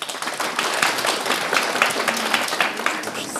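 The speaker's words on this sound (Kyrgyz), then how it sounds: "Кол чаап коебуз." An audience at a forum theatre performance on gender-based violence claps together, a moderately loud, lively patter of many hands with individual claps standing out, continuing steadily throughout.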